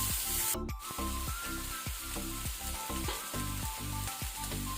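Chopped tomato goes into onions frying in a pan, giving a loud, continuous sizzle with rhythmic scraping stir strokes throughout.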